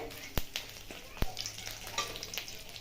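Dried chilli, bay leaf and small cardamom crackle in hot oil for a Bengali raw banana kofta curry, giving a steady low sizzle broken by a couple of sharp popping bursts, heard close up with no talk.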